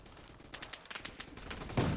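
Gunfire from a first-person shooter video game rattles in quick, uneven bursts of sharp cracks, moderately loud, ending in a heavier blast.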